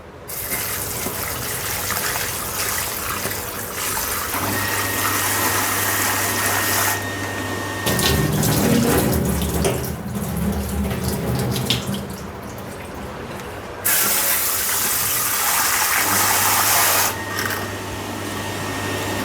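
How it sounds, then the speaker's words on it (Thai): Food being rinsed under a running kitchen tap in a sink, a loud continuous gush of water that swells and shifts as the flow and splashing change, close by, with no talk. "ล้างทิ้งสักสองน้ำก็ได้ครับ"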